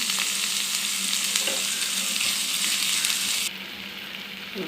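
Curry leaves crackle in hot tempering oil, a loud steady close sizzle with sputtering pops that drops slightly in intensity partway through.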